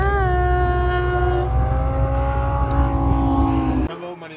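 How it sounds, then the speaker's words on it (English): Lamborghini Huracan engine on a Las Vegas race track, a loud steady harmonic drone that climbs in pitch as it accelerates for about four seconds, then drops off abruptly as the revs cut. "We're going for 5 laps in the Lamborghini Huracan."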